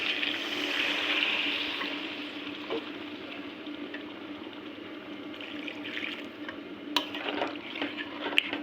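Water being poured into a pot of cooking duck meat, a steady sizzling, bubbling hiss that stays fairly loud for a few seconds, then settles into a softer simmer with occasional clinks.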